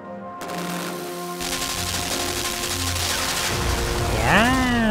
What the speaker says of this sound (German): es sind keine Laser, es sind mehr Kanonen, also Maschinengewehre quasi